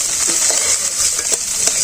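Tilapia fish frying in hot oil gives a loud, close, hissing sizzle with small crackles throughout a brief moment.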